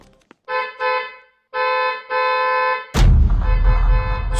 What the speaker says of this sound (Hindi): अचानक गाड़ी का हॉर्न बजा